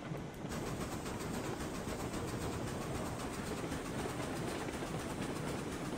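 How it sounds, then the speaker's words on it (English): Steady rumbling of a locomotive backing up in the train game RailRoads Online, a continuous broadband roll with a faint rhythmic clack, close and loud throughout with no talk. "Don't mind running the train in reverse every now and then."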